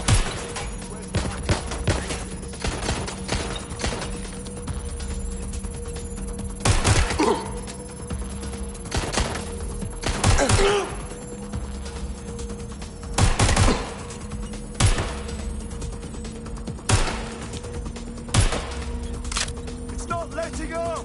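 Enemy gunfire in the video game Watch Dogs: Legion, with sharp bursts and single shots cracking irregularly over about twenty seconds above a steady low hum, some close and loud.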